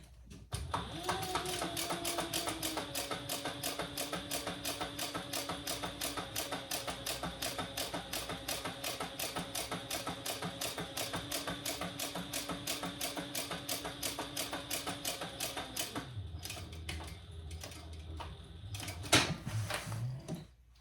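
A sewing machine runs a second row of stitches across a fabric sling, a fast, steady needle clatter over a motor hum lasting about fifteen seconds, then stopping, followed by a few quieter handling knocks.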